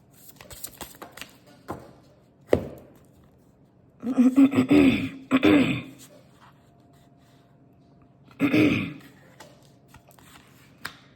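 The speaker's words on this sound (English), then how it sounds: "I'm clearing my throat." A few rough, throaty clearing bursts, two close together and one more after a pause, with quiet room noise in between.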